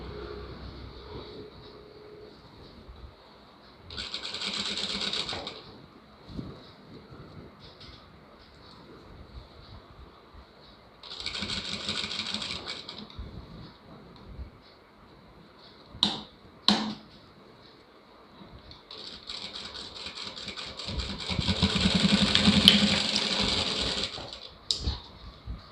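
A sewing machine stitches the lining of a blouse in three separate runs: short whirring bursts near the start and middle, then a longer stretch toward the end, with quiet handling in between.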